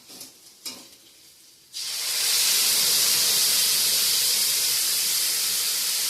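Spice paste of tomato, chilli and garlic hits a hot pan after a couple of light knocks, then breaks into a loud, steady sizzle and hiss that carries on close up.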